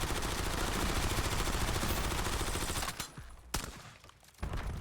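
Rapid automatic gunfire in Black Ops 7 rattles continuously and loudly until the magazine runs dry, followed by a few sparse clicks and thuds.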